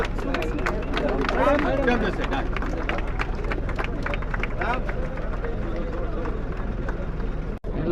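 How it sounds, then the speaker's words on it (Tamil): Clapping and cheering from a crowd at an outdoor eye-donation awareness rally in Besant Nagar, a continuous dense wash of applause and babble that holds steady throughout, with a brief dropout near the end. "பெரிய பெரிய பெரிய கைத்தட்டல் கொடுங்க மேடம்க்கு"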